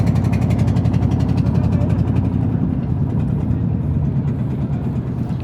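Fishing boat engine idling with a steady, heavy low-pitched chugging throb, close and continuous throughout.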